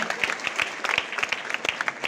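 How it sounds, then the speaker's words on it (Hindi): Audience clapping in a college hall in Balrampur, a steady burst of applause with many hands close by, continuing for about two seconds. "बजाइए तालीम के लिए सभी लोग"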